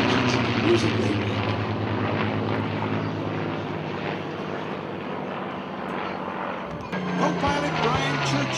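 Droning roar of the Allison engines of a B-17G Flying Fortress bomber passing overhead, loud and sustained, with a pitch shift as they go by.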